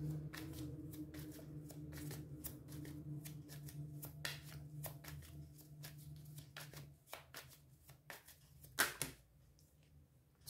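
Tarot cards shuffled by hand during a Bengali tarot reading, a dense run of quick papery riffles and slaps over a low steady hum, with a few louder snaps near the end.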